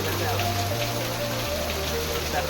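Rain falling steadily, a dense even hiss of drops on surfaces close by, with a low hum underneath and faint voices in the background.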